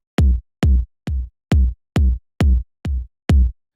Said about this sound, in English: just do 4 bass drums so it sounds like this